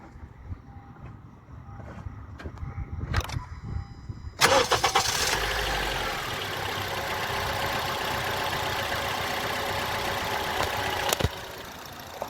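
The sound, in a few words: car engine cold start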